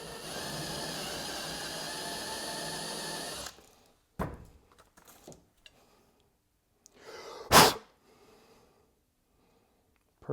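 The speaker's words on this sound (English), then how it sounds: "For our purposes, it's just fine to do this with the hand drill." A hand drill bores into the axle tube of a motorcycle fork, a Yamaha T7 with KYB forks, whining steadily and close for about three seconds before stopping, followed by scattered clicks and handling noises.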